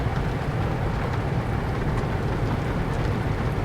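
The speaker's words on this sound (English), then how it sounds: "Looks like the rain's just gonna start now." Rain begins falling in Euro Truck Simulator 2 during a drive in a Volvo FH16 780 truck, a steady hiss of rain over a low, constant engine rumble, with no voices.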